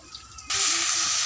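Potatoes drop into hot oil with fried onions in a home kitchen pan and break into a sudden, loud, sustained sizzle right after a quiet moment.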